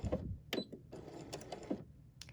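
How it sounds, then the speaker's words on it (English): A home sewing machine runs a short tacking stitch along a satin-stitch quilting seam, giving brief mechanical bursts of clicking and whirring in quick succession, close and fairly quiet, with no talking. "I'm going to hit that stay stitch, and I'm going to give a tacking stitch"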